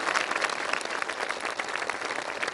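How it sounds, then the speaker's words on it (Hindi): An audience at a Brahma Kumaris bhoomi pujan dedication ceremony claps steadily, with dense, even applause filling the whole moment and no voice over it. "मेरे लिए भी ताली बजा दो"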